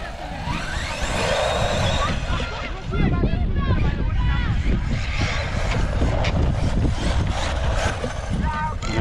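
An Arrma Typhon TLR RC car accelerates, its electric motor whining up in pitch amid gusty wind noise and rough rumble, with someone speaking over it.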